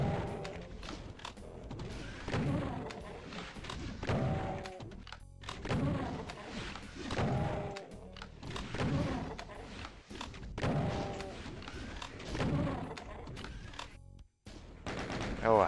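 Rapid bursts of gunfire and explosive booms from the classic shooter Doom 2, repeating in dense clusters throughout, loud and continuous with a voice talking over the shooting.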